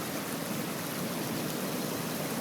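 Steady broadband roar of ocean surf churned up by Hurricane Earl along a riptide beach, a constant wash of breaking water with no distinct waves standing out, fairly quiet and even throughout.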